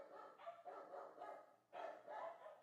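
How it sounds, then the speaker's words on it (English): A dog barks in several short bursts, fairly distant and muffled indoors, with a pause before a louder final pair of barks. "My dog's at it again."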